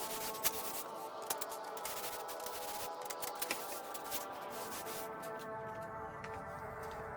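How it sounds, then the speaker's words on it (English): Fine 2000-grit sanding sponge rubbed by hand across an IKEA Rast dresser, a soft steady scratchy rub with light irregular strokes, close and fairly quiet, no voices. "on the last one I used this sponge that I love because it gives such a smooth feel. and this one is at 2000 grit"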